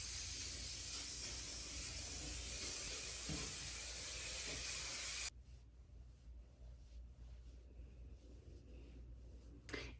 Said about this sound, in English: I'm going to spray it on all over. I like the feel of hairspray.